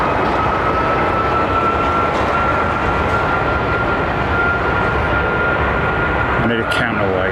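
A Rolls-Royce Trent 700-powered airliner at Heathrow sends out a loud, steady roar with a sustained high engine whine across the whole stretch, some rumble and wind underneath, and a brief higher burst near the end.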